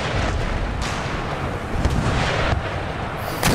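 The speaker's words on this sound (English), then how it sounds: "those artillery that are meant to be blowing the wall down are actually killing more bloody blokes on the wall than they are taking the wall out" Artillery bombards a city wall during a siege of Istanbul in Empire: Total War, a rumbling barrage of deep booms and sharp cannon reports repeating at irregular intervals over constant battle noise.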